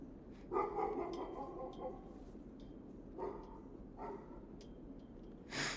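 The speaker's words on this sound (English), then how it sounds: "Dog barking in distance." A dog barks a few times somewhere off in the distance in an indie video game, faint and spaced out against a low ambient background.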